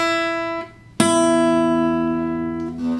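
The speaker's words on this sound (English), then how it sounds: "Just play the low E and then go up to the high E." Two guitar strings plucked one after the other, a low string ringing first, then a brighter high string struck and left to sustain.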